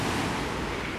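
Sea waves wash onto a beach at Mahmutlar, Turkey, a steady, fairly loud roar of surf with some wind noise and no voices.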